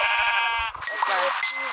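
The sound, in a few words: sheep bleating in Minecraft video game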